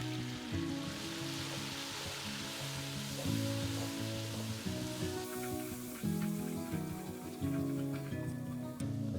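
Sambar with tomatoes added cooks in a pan, giving a continuous crackling sizzle like light rain, close and steady, with faint low tones from a voice or background music and no clear talking.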